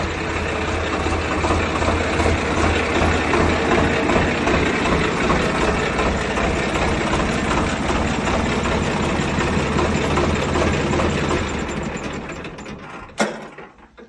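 A 2013 Swaraj 855 tractor's diesel engine runs steadily and loudly up close with a constant throbbing chug, then dies away near the end, leaving a brief clunk and quiet.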